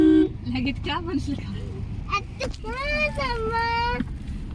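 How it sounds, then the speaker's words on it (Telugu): A vehicle horn toots with a steady, tonal honk held for over a second, following an earlier brief beep, with someone speaking nearby. "హారన్ కొట్టు"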